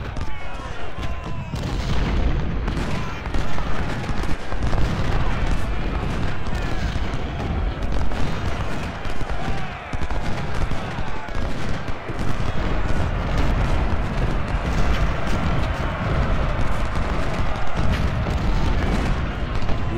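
Artillery booms and rolling volleys of gunfire crackle continuously in Ultimate General: Civil War during the Battle of Antietam, dense and loud, with someone talking over the battle at times.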